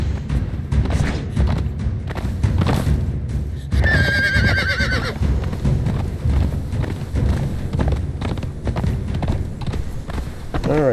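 A horse in the Conan Exiles video game whinnies loudly in one rising call, over steady pounding hoof clops and thuds that continue throughout.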